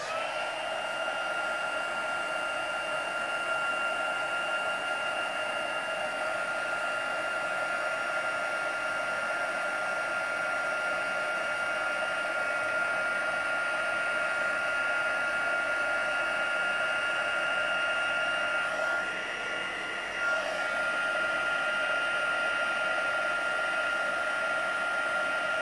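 A heat tool blows steadily for a long stretch while heat-setting embossing on a craft card, a constant loud whirring hiss with a brief wobble near the end.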